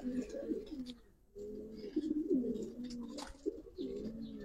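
Pigeons coo softly and close by, in repeated low throaty burbling calls with a brief pause, over quiet background noise.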